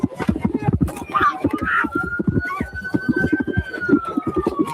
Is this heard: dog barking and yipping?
no